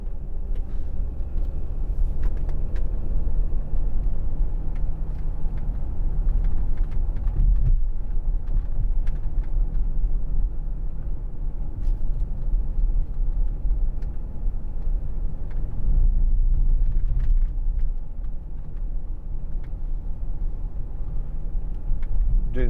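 Steady low road and engine rumble inside a 2010 Audi Q7 3.0 TDI S line with Tiptronic gearbox cruising at 30 mph, a continuous muffled drone with faint wind and tyre noise and no talking.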